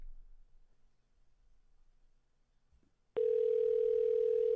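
A steady telephone dial tone starts abruptly after a quiet stretch and holds loud and unbroken while calling AMC.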